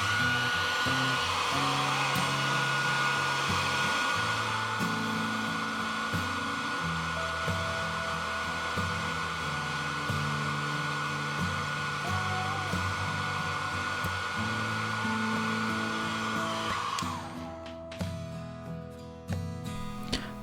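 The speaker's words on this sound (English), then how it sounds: "heat with a hairdryer and carefully peel the speaker from the iPhone case" Hairdryer blowing hot air onto an iPhone XS case, a loud continuous motor whir with steady hum that holds for about seventeen seconds, then cuts off abruptly, leaving faint clicks and handling noises.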